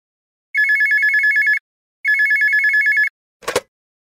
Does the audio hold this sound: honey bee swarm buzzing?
no